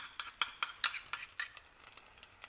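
Butter being stirred into golden caramel in a pan, the spoon making quick, rhythmic scraping strokes that slow and soften toward the end.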